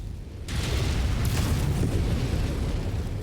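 A missile explodes in the MechWarrior 5 video game, a sudden loud blast that swells into a long, dense roaring rumble sustained to the end, with no voices over it.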